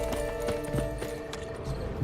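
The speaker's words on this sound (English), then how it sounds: "The horse bolts away." Rapid hoofbeats clatter in a quick, even rhythm, a horse galloping away in the video game The Witcher 3: Wild Hunt, at moderate volume against a faint background hum.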